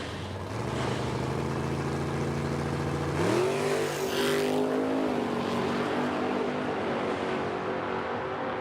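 A drag race car, a Dart, launches wheels-up at an Edmonton strip: a loud, sustained engine roar that climbs sharply in pitch as it pulls away, holding steady and close for several seconds with no talk.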